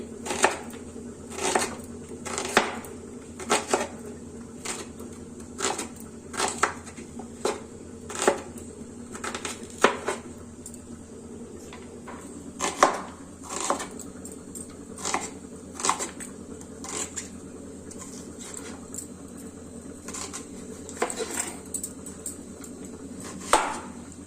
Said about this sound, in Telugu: ఉల్లిపాయలు రెండు వేసుకోండి ఇట్లా పొడుగు కట్ చేసుకోండి